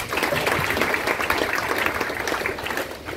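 A seminar audience at an RCM business event in Jehanabad, Bihar claps together in a dense, continuous wash of applause that stays fairly loud throughout.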